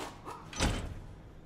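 Steel car door fitted into place on a vehicle in Pacific Drive, a single solid clunk and slam after a brief sliding rustle, close and moderately loud with no talk.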